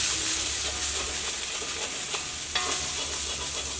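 Ginger and garlic sauté in a pan for tomato fry, giving a steady close sizzle with scraping stirs and a brief clink near the end, with no talking.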